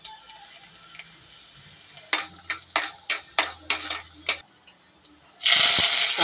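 Mustard seeds and dried red chillies crackle in hot oil in a curry pan, a run of sharp popping bursts, then a loud, steady sizzle swells up at the end.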